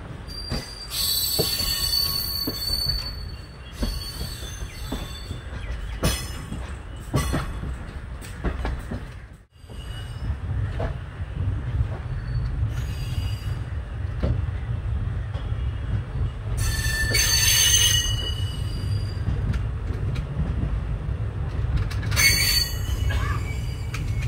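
A passenger train on the Tirunelveli–Thoothukudi line rolls past with high, piercing wheel squeals in several bursts over a steady low rumble, loud and close.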